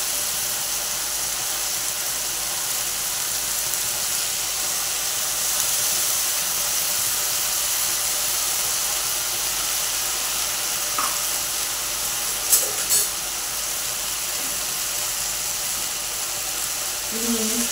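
Chopped dill leaves and moong dal sizzling in a hot pan give a steady, even hiss throughout, with a couple of faint clicks near the end and no voices.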